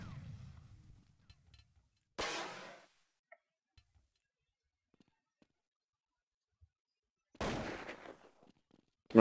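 Two sharp bursts of gunfire in Counter-Strike on the de_dust2 map, a few seconds apart, each loud and brief, separated by near silence with faint ticks and a voice at the start.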